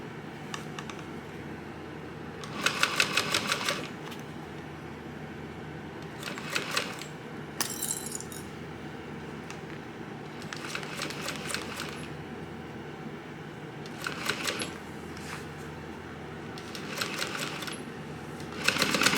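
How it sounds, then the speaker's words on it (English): A sewing machine stitches a seam on a crossbody bag, running in several short bursts of rapid mechanical chatter separated by quiet pauses. "I'm gonna stitch this at 3/8 of an inch seam allowance"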